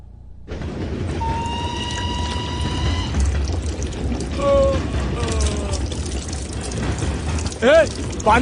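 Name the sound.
water flowing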